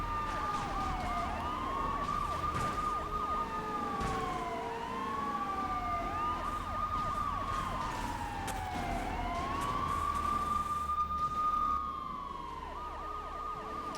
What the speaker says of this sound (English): And those annoying sirens that come with it.